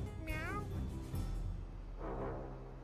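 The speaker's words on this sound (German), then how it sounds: "Da war eine Katze." A single video-game cat meow rings out briefly amid background noise, followed by another faint meow-like cry and a voice talking underneath.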